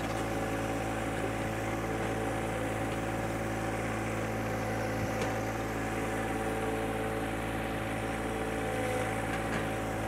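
A tractor engine runs steadily at lowered revs while powering the loader hydraulics, a continuous droning hum and whine that stays even and moderately loud throughout.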